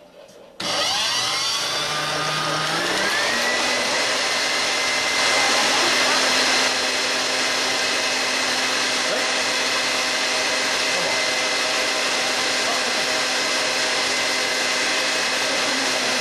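Electric hand mixer with wire beaters whipping Nescafé instant coffee into a froth, a steady loud motor whir starting abruptly and running continuously with a rising pitch as it settles.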